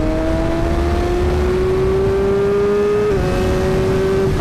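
A 2012 BMW S1000RR sport motorcycle pulls hard at full throttle in third gear around 9,000 RPM near 90 mph. A loud, steady engine howl climbs slowly in pitch, with a brief dip near the end, heavy wind roar underneath.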